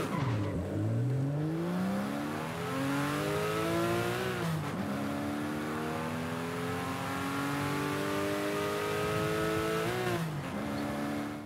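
Subaru SVX with its EG33 engine in Forza Horizon 5, revving hard through repeated rising gear pulls with brief dips at each shift, loud and close throughout with no talk.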